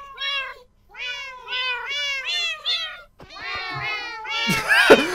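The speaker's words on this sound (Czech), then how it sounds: "Zpívající kočky, kámo." Cats meow in the Minecraft video game, with repeated wavering calls in quick runs that break off and start again, close and fairly loud, and a sharp burst of noise near the end.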